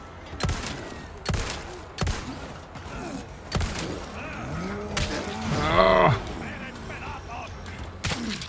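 Cows low in the Resident Evil 4 video game, a drawn-out moo standing out mid-clip among sharp gunshot-like impacts and rumbling game effects, with a person's voice briefly heard.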